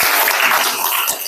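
A short, dense burst of classroom applause, many hands clapping together at close range.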